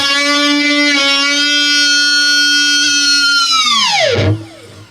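Electric guitar with Sustainiac sustain holding a long, steady bent note with rich harmonics, then a whammy-bar dive bomb sweeping the pitch sharply down to a low rumble near the end; loud, solo, with no talking.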